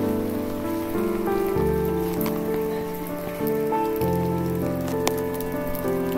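Rain pours steadily at the Bhukailash Shiva temple in Kidderpore, a dense, even wash of drops heard beneath a layer of tonal background music.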